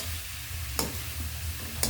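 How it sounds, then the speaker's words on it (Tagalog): Shredded chicken fries loudly in a pan and is stirred until golden, a dense steady sizzle with two sharp scrapes of a spatula; no talking. "Halu-haluin nyo lang hanggang sa maging golden brown yung ating chicken."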